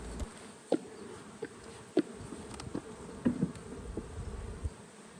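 Steady droning buzz of many honey bees close up, with scattered soft clicks and bumps from handling the hive.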